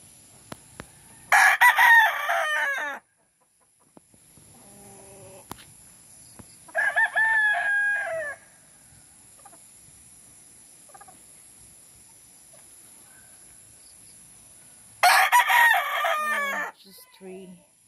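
A golden brood hen and other farmyard fowl call in three loud, ragged bursts of crowing and squawking, separated by long quiet gaps.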